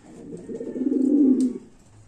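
A blue dilute pigeon hen, a TS2 bird held in the hand, gives a single soft, low coo lasting about a second, close and quiet.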